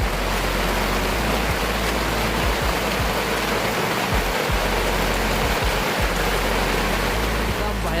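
Heavy rain pours at Annapurna base camp in Nepal, a loud, constant broadband roar with low rumbles and gusty thumps near the microphone.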